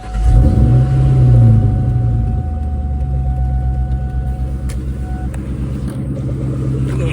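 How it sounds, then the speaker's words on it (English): A car with a Borla catback exhaust starts up and idles, a loud deep rumbling burble right up close that settles into a steady throbbing drone. "you can hear the exhausts."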